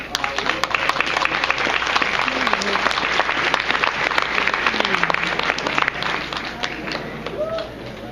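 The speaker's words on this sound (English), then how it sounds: "I want to give them a round of applause." Audience at a community meeting in Milwaukee giving sustained applause, dense and steady clapping from a crowd throughout, with some voices and cheering mixed in.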